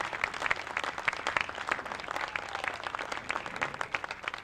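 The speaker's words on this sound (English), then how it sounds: "Let's give them a big round of applause" Audience applause at a museum opening, a dense, steady patter of many hands clapping at moderate distance that holds throughout.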